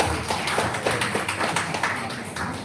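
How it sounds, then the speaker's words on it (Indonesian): An audience at an anniversary gathering applauds, giving a steady, moderately loud patter of claps that runs through the whole stretch without any talking. "Tepuk tangan teman-teman."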